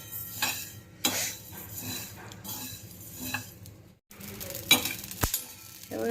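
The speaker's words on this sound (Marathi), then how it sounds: "आता मस्त आहे फुल फुटतंय आवाज येतोय छान" Vavding (embelia) seeds roast in a pan with scattered small pops and crackles, irregular scraping stirs and a few metallic clinks of a utensil against the pan, close and fairly loud.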